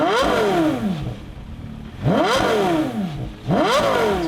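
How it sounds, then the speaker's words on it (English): A Porsche Carrera GT exhaust revs three times in quick succession, each blip rising sharply then falling back toward idle, loud and close with no talk. "the reason why you get one of these, or at least the reason why I get one of these, is because of how good the exhaust sound."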